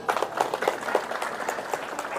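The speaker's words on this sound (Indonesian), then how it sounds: "Tepuk tangan lagi." Audience applause at an Indonesian political gathering, a steady patter of many hands clapping at close to moderate distance for a couple of seconds, with a murmur of voices underneath.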